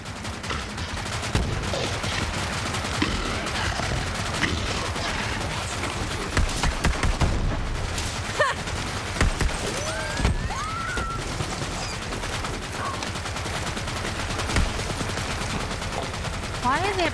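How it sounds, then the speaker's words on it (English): Rapid gunfire rattles through a Borderlands 3 firefight, with dense bursts of shots and automatic fire nearly continuous and loud, a voice speaking now and then over the shooting. "Why are there bullets shooting all over in front of me?"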